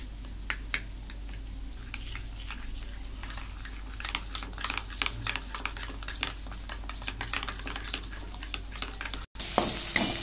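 Yogurt and spice mix roasting in a pan for shahi paneer gravy, with a steady low sizzle broken by frequent scraping stirs of a spoon, close and fairly quiet, with no voices.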